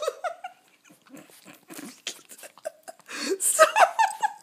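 A playful Maltese dog yaps and grumbles in short bursts at close range, getting louder toward the end, while someone talks over it.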